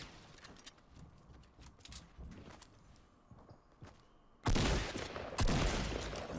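Shotgun blasts in a building-and-shooting video game, two loud booming shots landing close together near the end after a stretch of quieter footsteps and game ambience.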